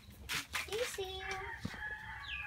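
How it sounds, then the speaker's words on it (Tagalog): Farm chicks give several thin, high cheeps close by in quick separate notes, with soft fowl clucking and rustling behind them. "Merong mga sisaw dito."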